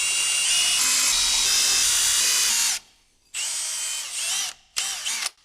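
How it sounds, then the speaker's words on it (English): A power drill whines loudly and steadily, then stops and restarts in two shorter bursts, its pitch wavering as it bites in. "then you drill up to the little mark."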